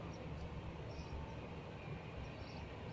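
A passenger train from Southport to Liverpool passing near Crosby, a steady low rumble and rolling rail noise heard from a short distance, faint and continuous with no voices.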